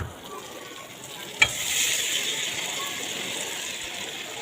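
Boiled dal and potatoes sautéed with spices in oil give a soft, steady sizzle with a light stirring scrape and one brief sharp knock against the pan, close and fairly quiet.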